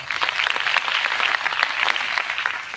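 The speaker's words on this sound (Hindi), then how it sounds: "उसके लिए जोरदार तालियां" Loud, sustained applause from a convention audience, dense steady clapping filling the whole stretch with no break or voices over it.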